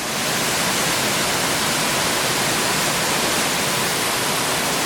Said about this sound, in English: And then the creek keeps cascading on down further